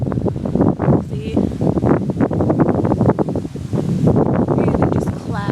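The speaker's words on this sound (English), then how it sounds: "It's just cloudy and windy and not very exciting." Gusty wind on a cold, cloudy day roars against the microphone in loud, uneven bursts, with a person talking over it throughout.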